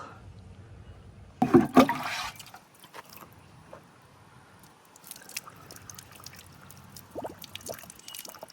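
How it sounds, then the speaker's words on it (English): Water is poured into the top of a well pump to try to prime it, giving a sudden loud splash followed by fainter trickling and dripping, with no speech. "No matter how much water I pour in this thing up here, I just cannot get it primed"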